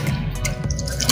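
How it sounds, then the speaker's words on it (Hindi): Water pours out of the drain pipe of a Realme fully automatic washing machine during its spin cycle, a steady close splashing trickle that runs without a break for the whole moment. "तो आप देखेंगे उसमें से पानी बाहर आना शुरू हो जाएगा पाइप में से"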